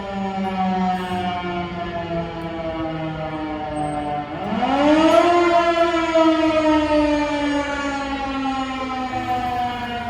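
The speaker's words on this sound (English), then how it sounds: "apparently we have a noon siren here in Bentonville" A steady noon civil siren in Bentonville, Arkansas wails throughout, its pitch rising and swelling louder midway, then holding a long sustained tone with no voices.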